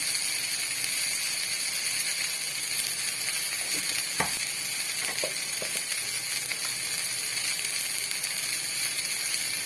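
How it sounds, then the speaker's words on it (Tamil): Drumstick flowers and egg sizzle steadily in a pan, a continuous close frying hiss with a few soft stirring scrapes around the middle. "கொஞ்சம் வதக்கிட்டு மஞ்சள் தூள் சேர்த்துக்கலாம்"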